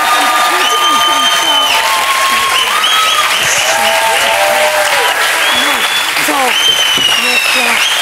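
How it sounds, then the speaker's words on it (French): A French TV talk-show studio audience breaks into loud, dense applause that holds steady throughout, under a melodic music bed. "N'applaudissez pas, on ne tourne pas, ne fais pas applaudir les gens."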